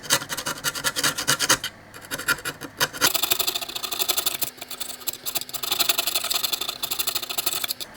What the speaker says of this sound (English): See if I can scrape some of this corrosion off the tracks.